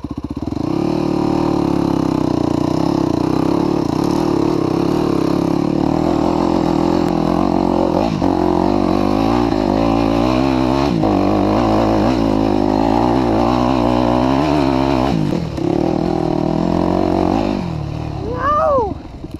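An enduro motorcycle goes full throttle up a dried creek bed, its engine droning loud and close with the pitch rising and falling as it labours over the rough ground, then a sharp final rev.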